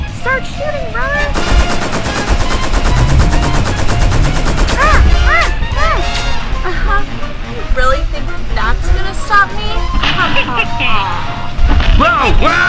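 Cartoon gunfire rattles in a Cuphead plush movie, with rapid machine-gun-like bursts of shots under loud, excited voices and squeaky cartoon sound effects, running continuously and close up.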